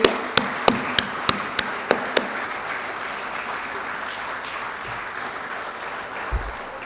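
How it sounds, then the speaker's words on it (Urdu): Applause from the audience at a government ceremony, opening with several sharp, evenly spaced claps over a broad crowd wash that fades into a steady lower murmur. "ان سب کے لیے میری طرف سے زوردار تالیاں بجائیں"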